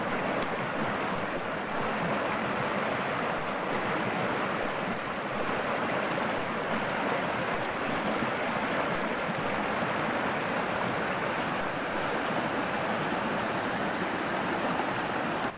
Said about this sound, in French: le long de ce joli ruisseau là.